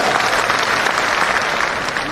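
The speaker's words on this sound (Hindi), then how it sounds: "इनके लिए जोरदार ताली दीजिए भाई।" A crowd at a political workshop in Patna's Bapu Sabhagar hall gives loud, sustained applause, with dense clapping filling the room throughout and voices mixed into the noise.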